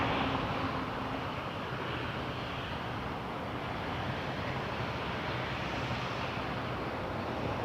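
Jazz Q400 turboprop airliner at Toronto Pearson airport, a steady broadband engine roar that holds evenly and loud for the whole stretch with no voices over it.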